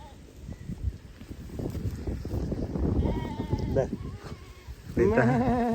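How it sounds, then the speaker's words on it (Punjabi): Sheep on a farm bleat outdoors, with a clear wavering bleat near the end over a rough background of wind and movement, and people talk nearby. "ਦੇਖੋ ਆ ਭੇਡ"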